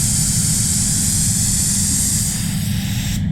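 SATA spray gun laying down LVC 105 clear coat during a Soul Red Crystal respray, a loud continuous airy hiss with a low rumble underneath, cutting off sharply just before the end.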